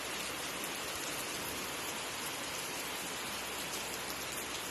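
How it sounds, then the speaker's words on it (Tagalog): Sudden heavy rain falling in Italy after thunder, a steady dense hiss of downpour with no pauses, close and fairly loud throughout. "Kaya pala, ayan, biglang ulan niya."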